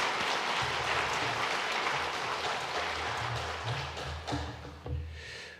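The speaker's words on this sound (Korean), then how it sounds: "잠깐 자리에 인사하실 때 또 박수로 환영하도록 하겠습니다" A church congregation at a Sunday service at Gimhae Jeil Church, of the Korea Evangelical Holiness Church, applauds to welcome visiting guests. The clapping is dense and steady throughout, with a few louder taps near the end.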